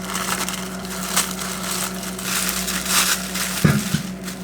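Graham crackers being smashed into crumbs in a home kitchen, a steady close crunching and crushing with a steady hum underneath and a sharper knock near the end.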